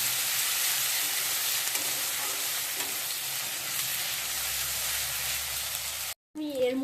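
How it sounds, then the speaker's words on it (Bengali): Ginger-garlic paste spice mix fries in a pan with a steady, loud, broadband sizzle that holds almost unbroken, cutting out for a moment near the end before a voice begins. "দু চামচ মতো দিয়ে দিলাম আদা রসুন বাটা এবার এইটাকেও আমি সুন্দর করে ভেজে নেবো মশলাটাকে"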